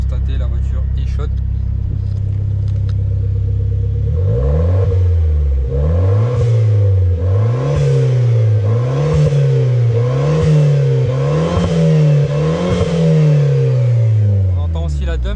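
A Renault Clio 4 RS engine, warmed up, idles, then revs repeatedly in rising and falling bursts, with a hissing dump valve release after each rev; loud and close.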